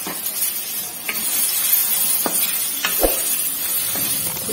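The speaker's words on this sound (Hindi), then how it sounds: "इसे मिक्स करेंगे।" Spices stirred through a sizzling pan of spicy green chilli curry: a steady, close frying hiss with a few scraping spoon strokes against the pan, and no speech.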